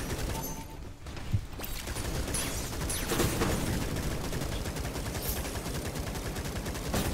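Sustained, rapid-fire minigun bursts from the video game Atomic Picnic, mixed with mechanical clicks and impacts, loud and close throughout.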